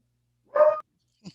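A single short, sharp dog bark rings out clearly against silence, followed a moment later by a faint brief yip.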